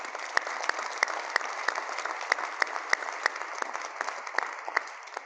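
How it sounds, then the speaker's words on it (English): Steady audience applause from a community awards celebration, a dense even patter of many hands with sharper individual claps poking through, moderately loud and continuous for several seconds. "Let's give them another round of applause."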